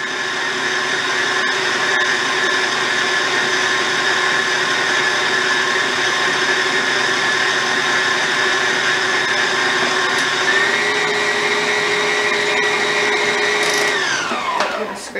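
An electric mixer beats cake pop batter, a loud steady motor whine holding its pitch throughout, then winding down near the end.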